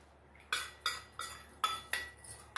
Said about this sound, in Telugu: వేసి బాగా ఇలా కలుపుకోవాలి